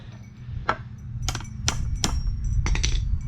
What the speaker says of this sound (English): I'm gonna take the hammer